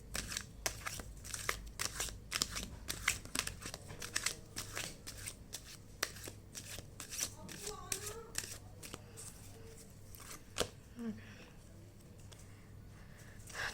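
Tarot cards drawn from a deck and laid down, repeated quick papery flicks and slides heard close and faint, with a voice speaking softly in between.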